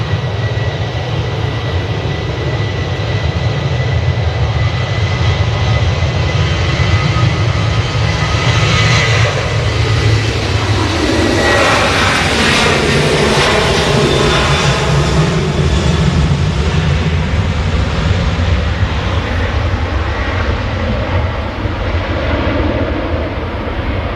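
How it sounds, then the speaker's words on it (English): A Swiss airliner taxiing at Manchester Airport gives a steady, loud jet engine roar with a broad rushing hiss that swells gently midway and holds throughout. "also got the Swiss taxiing out over there"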